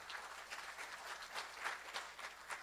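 Congregational applause during a Spanish-language church service, a steady, fairly faint patter of many hands clapping with no voices.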